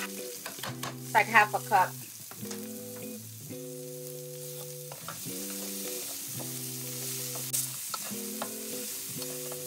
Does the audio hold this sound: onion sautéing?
yes